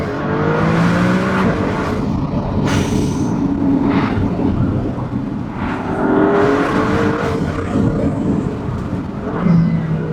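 A Maserati MC20 sports car accelerates hard, with loud, close engine revs that rise in pitch through several pulls and gear changes. No one speaks.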